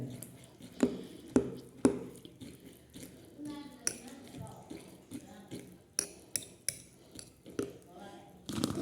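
A spoon clinks and knocks against a pot while stirring milk with tutti frutti for avil milk, giving sharp metallic taps in short bursts among quieter liquid swishes, fairly close.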